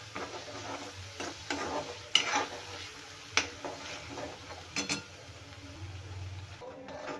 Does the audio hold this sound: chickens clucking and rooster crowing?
no